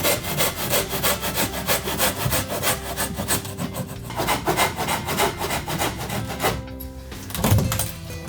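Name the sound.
sawing wood while opening the wall of an old house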